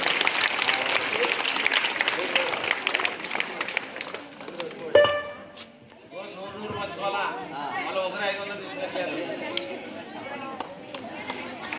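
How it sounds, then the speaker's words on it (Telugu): Audience applause at a school's 77th Republic Day celebration, dense clapping from a crowd that fades into chatter and voices, with a speaker talking over the room. "గట్టిగా చప్పట్లు కొట్టండి"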